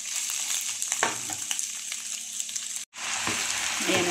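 Kangkong stir-fries with boiled chicken liver in a hot pan, a loud continuous sizzle with a few scraping stirs, cut by a momentary drop to near silence before the frying resumes.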